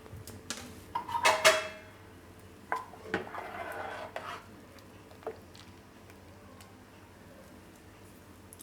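Angoor balls dropped into rabdi in a pan for a Gujarati Diwali sweet, giving a few clinking, scraping spoon-and-metal sounds early on, then a soft stirring squish, quieter toward the end.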